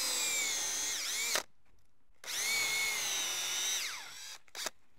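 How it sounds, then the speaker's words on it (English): A power drill whines loudly as it bores holes into a wood log, two long bursts with a pause between, then a brief final spurt. "You keep drilling these lines of holes"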